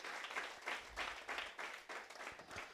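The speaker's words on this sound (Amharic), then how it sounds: "አጨብጭቡለት ባካችሁ።" A church congregation claps together in steady, rhythmic bursts of applause, sustained and fairly distant, filling the hall with no speech over it.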